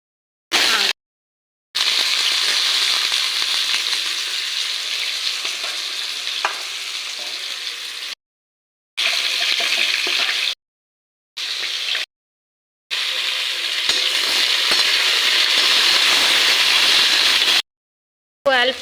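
Garlic frying in a pan with loud, continuous hissing sizzle and scraping stirs, close up, cut by several brief silent gaps.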